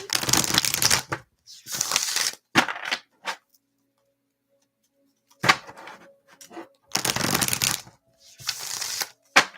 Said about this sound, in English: All right, let's start pulling some cards.